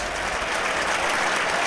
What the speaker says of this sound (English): Applause from the 3 sections of the crowd